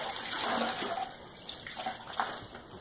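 A hot, steaming wet rag is wrung out nearby in cold weather, water splashing and trickling down into a basin in short gushes.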